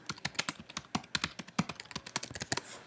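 Fingers tap quickly across a computer keyboard, a close, dry stream of uneven clicks with small bursts and pauses, heard alone with no voices.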